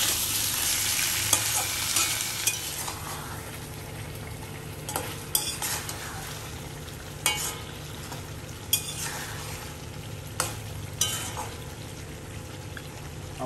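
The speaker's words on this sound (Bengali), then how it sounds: "তারপরে আলু দিয়ে দেবো। একটু ভেজে নেবো ভালো করে।" Potatoes sizzle steadily in hot oil in a home kitchen pan, with a utensil scraping and stirring in periodic sharp clicks, close up, without any talking.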